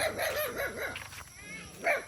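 Dogs bark along a rural road near a new school building in Cabayugan, Palawan, giving a few bright, moderately close barks and yips in a short burst, then a final bark after a pause.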